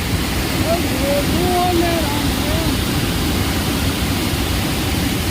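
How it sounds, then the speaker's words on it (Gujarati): Steady, loud rush of water pouring over the spillway of an overflowing village pond in the monsoon, a dense broadband roar that fills the whole clip with a few faint tonal chirps above it. "અત્યારે તળાવ ઓવરફ્લો થઈ ગયું છે અને નિકાલ ઉપરથી પાણી જાય છે"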